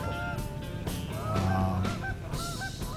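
Canada geese honk repeatedly in a loud, overlapping chorus, with several nasal calls rising and falling close by, no talking over them.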